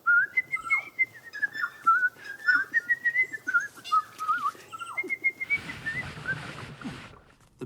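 A tui bird sings a long run of clear, fluting whistled notes close by, then a breathy rush of noise closes the phrase.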